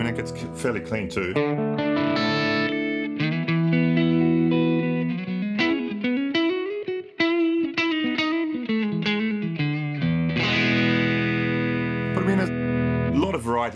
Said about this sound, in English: Get that edge of breakup sound.